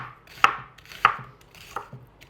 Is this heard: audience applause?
no